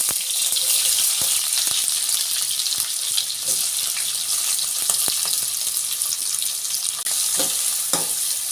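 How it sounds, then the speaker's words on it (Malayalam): Sliced onions hit hot oil already spiced with cinnamon and two or three cloves, giving a loud, dense sizzle that runs throughout with scattered clicks of a utensil stirring. "നമുക്ക് കുറച്ച് ഉള്ളി ഇടാം"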